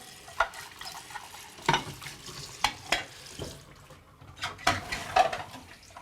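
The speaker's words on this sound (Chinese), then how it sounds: "我来洗碗啊" Dishes being washed under a running tap at a home sink, with scattered clinks of crockery and bursts of splashing water over a steady trickle.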